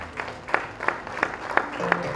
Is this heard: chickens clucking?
no